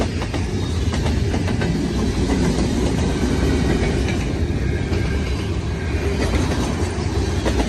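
Freight train M313, running from Winnipeg to Toronto, rolls past close by with loud rhythmic clickety-clack of wheels over rail joints and a steady heavy rumble, no voices.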